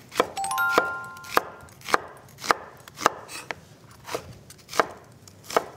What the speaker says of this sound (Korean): 양파 같은 경우에도 좀 이 대파나 다른 재료들과 좀 맞춰서 너무 얇게 썰지 마시고요